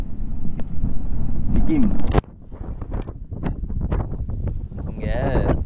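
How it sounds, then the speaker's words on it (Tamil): Strong wind in Coimbatore, India, buffets the microphone with a loud, rumbling low roar under someone talking, easing slightly partway through. "இங்கே கோயம்புத்தூரில் சரியான காற்று வச்சாரு"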